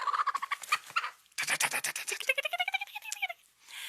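A full-size naked neck hen clucks and chatters close by in a rapid string of short notes, ending in a rising, drawn-out squawking call.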